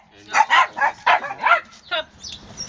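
A dog barks in a quick series of loud, close barks, followed by a few softer yips and whimpers toward the end.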